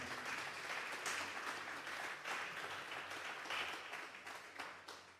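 A church congregation claps together during a Sunday afternoon service, a dense, steady wash of many hands that holds at an even loudness for the whole stretch, with no voices standing out.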